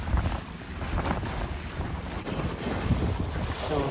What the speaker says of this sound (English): Now we're sailing. Wind started a little light, but picked up once we got away from the island.